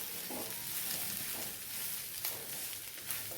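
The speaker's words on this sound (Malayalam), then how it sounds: "ഫ്ലെയിം കുറച്ച് വെച്ചുകൊണ്ട് നന്നായിട്ട് ഇളക്കിയെടുക്കാം." Faint steady sizzling and soft stirring as prawn mango curry masala with chopped mango cooks on a low flame, a gentle continuous hiss with light scraping and no voices.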